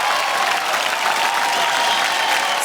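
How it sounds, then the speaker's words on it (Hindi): A TV show audience applauds to welcome guests, dense and sustained clapping from a crowd that fills the whole moment without a break. "एक बार जोरदार तालियों से स्वागत करिए"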